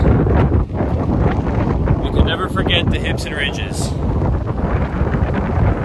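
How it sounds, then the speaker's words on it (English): Strong ocean wind buffets the microphone in low rumbling gusts throughout on a Fisher Island high-rise roof during barrel tile re-roofing, with someone talking over it. "I know it's windy. It's always windy here because we're on the ocean."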